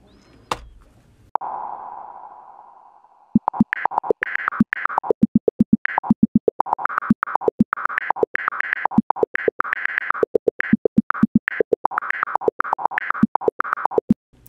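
A ChucK LiSa sampler plays back a recorded loop at randomly chosen rates in steady 16th notes, giving a rapid stream of choppy, pitch-shifting electronic fragments that follows a sustained held tone and a short pause.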